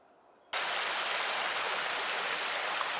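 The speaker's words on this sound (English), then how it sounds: "Here's Packer Creek." Quiet hush suddenly gives way to a steady, loud rush of flowing water from Packer Creek near Pack Saddle Campground on the Pacific Crest Trail, continuous and close.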